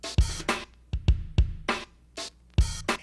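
A short music loop, Lin 100, plays punchy low kick thumps alternating with bright, noisy snare-like hits in a choppy, syncopated groove. It is dry and close, with no voices.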